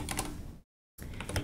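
Rapid keystrokes on a computer keyboard while coding a command-line Kanban board in Go, a dense clatter that stops dead for a moment of silence and then resumes just as busily.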